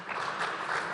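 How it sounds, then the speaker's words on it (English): Brief, fairly faint applause from a conference audience at a live event, a dense wash of clapping heard for under a second. "A big round of applause for that."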